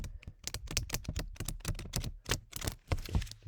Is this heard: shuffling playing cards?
yes